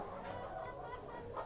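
Chickens clucking softly in a steady, low murmur of farmyard sound, fairly quiet and continuous throughout.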